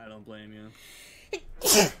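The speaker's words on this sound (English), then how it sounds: "If that was a sneeze, bless you." A sharp, sudden sneeze bursts out near the end, right after a person speaks a short phrase during a late-night game session.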